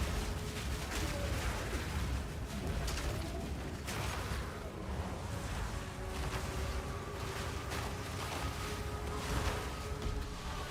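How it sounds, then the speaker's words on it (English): Dense, continuous crackling and booming from lightning skill explosions in Path of Exile 2, layered with clattering combat effects and a low rumble, steady and busy throughout with no pauses. "the explosions are big now with that additional AoE."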